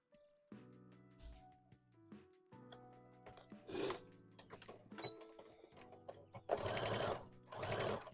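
Sewing machine stitching white thread into black fabric for a hat, delivering intermittent bursts of mechanical whirring and clattering with pauses and handling sounds between, close up and fairly quiet, no voices.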